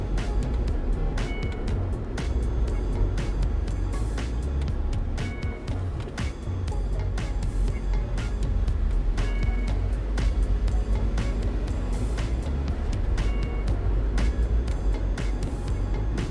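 A rental car driving along roads on the Greek island of Mykonos, with a steady engine and road rumble running loudly and continuously throughout, scattered with brief clicks and rattles.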